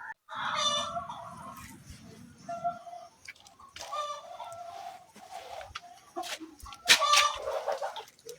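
Chickens on a poultry farm cluck and squawk close by in repeated bursts, some sharp and loud, with a brief crow-like call, and no talk over them.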